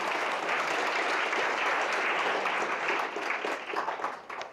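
Steady, dense applause from an audience, with many hands clapping continuously before tapering off slightly at the end.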